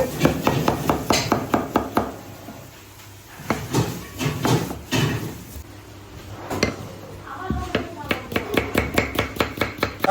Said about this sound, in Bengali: এই আমাদের লঙ্কা কুচানো হচ্ছে